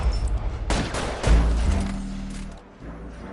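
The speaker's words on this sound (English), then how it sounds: "All units, shots fired, officer needs help." Video game gunfire in L.A. Noire, a burst of shots and loud cracks cutting through a low rumbling score, with a heavy impact midway and the firing fading near the end.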